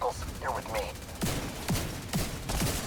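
Video game gunfire, rapid bursts of shots in several short volleys under talking voices.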